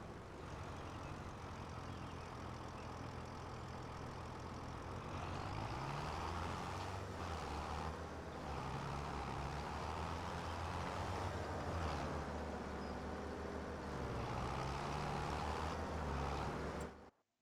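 A tractor in a farming game runs steadily, its engine droning and rumbling low without a break, with the pitch shifting slightly as it works.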